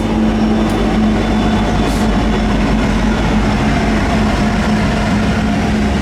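A short CN L570 freight train rolls into the Waterloo rail yard, a steady, continuous rumble of wheels and engine with a sustained low hum throughout, fairly close and unbroken.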